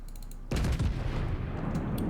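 A battleship's heavy guns fire in the naval game World of Warships, a single loud, close booming salvo that rumbles on as a long decaying roar, with no talking.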